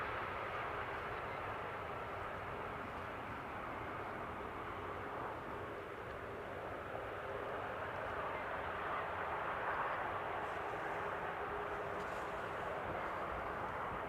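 A passenger airliner on approach to Amsterdam Schiphol Airport, a KLM-operated flight returning from Frankfurt, produces a steady, distant broadband engine roar that holds evenly throughout without other sounds.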